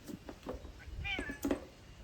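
A cat gives a few short, faint meows in quick succession, one rising then falling, against a quiet room background.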